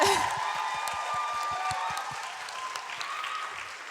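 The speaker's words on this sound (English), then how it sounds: "I need you guys to cheer louder for these two because they did it." Audience applause at a beauty and confidence event, with distinct claps beating fairly close at the start, then blending into a softer, sustained wash of clapping and crowd noise.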